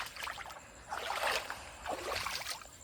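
Water trickles and sloshes softly in a shallow village stream with low water, in uneven surges, rising and fading a few times, with no voices.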